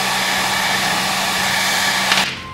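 A hair dryer blows steadily while drying a small toy penguin, a loud close continuous whooshing hum that cuts off abruptly near the end, with no talk.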